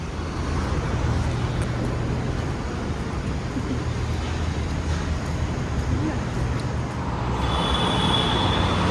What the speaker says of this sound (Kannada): ಗೈಸ್ ಮೆಟ್ರೋ ಸ್ಟೇಷನ್ಗೆ ಬಂದೆ